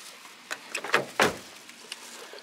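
A car door thuds shut with a sharp, fairly close impact. It is preceded by a few rustles and smaller knocks, and it sits over low background noise with no talk.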